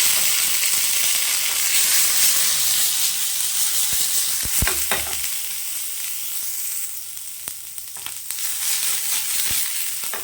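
Onions fry in a pan for mutton gravy, giving off a steady, bright sizzle throughout. Occasional scrapes and taps from stirring cut through the hiss, and no one speaks.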